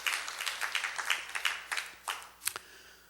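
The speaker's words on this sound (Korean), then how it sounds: "뜨거운 박수로 진심으로 하나님께 감사를 표현합시다." A church congregation claps during a Sunday service: a rhythmic round of many hands in unison, about five beats per second, then fading out into a few scattered final claps.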